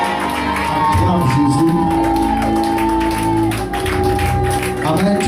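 Church congregation cheering and acclaiming in French worship, a loud mass of shouts, whoops and scattered clapping swelling together over a sustained musical backing.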